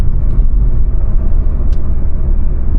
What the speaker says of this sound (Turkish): Pedal shiftlerimiz var. Şöyle bir vites büyütelim.